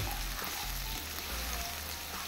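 Thinly sliced onion and green chilli pieces frying in a pan for tomato egg curry, a quiet steady sizzle with faint stirring close by, no talking.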